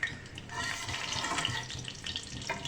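White cumin seeds frying in hot oil, a soft, continuous fizzing sizzle with light crackles, fairly quiet and without talk.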